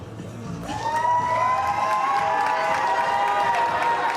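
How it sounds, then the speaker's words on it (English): A fight-night crowd bursts into loud, sustained cheering and applause with whoops and shouts, swelling after a quieter start and staying full and close until the end. "And the crowd really appreciating it."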